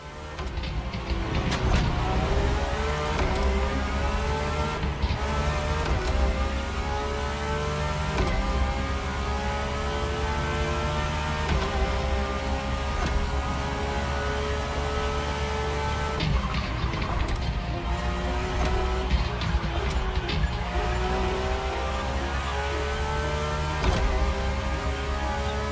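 In The Crew Motorfest racing game, a car engine hums and revs continuously with rising and falling pitch as gears change. The sound is steady and moderately loud through the whole stretch, with no voices.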